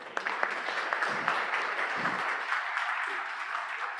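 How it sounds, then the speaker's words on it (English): Audience applause at an energy advisory conference, a steady wash of many hands clapping throughout, moderately loud with faint murmuring underneath. "a quick round of applause also for our moderator"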